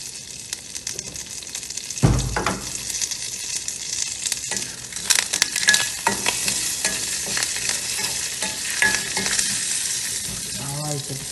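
Mustard seeds and curry leaves spluttering in hot oil in a pan, a steady close crackling sizzle with a sharp burst of popping early on and scattered stirring scrapes throughout.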